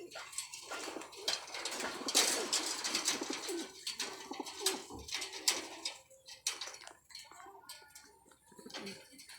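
Pigeons coo and flutter in a loft just before being let out to fly, with bursts of bird calls and wing noise over scattered clatter and some background voices.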